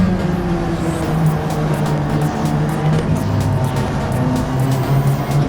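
A Gr. 3 race car in Gran Turismo 7 on the Grand Valley Highway track, its engine a steady, loud, close drone held at high revs throughout, with faint higher whines over it and no talking.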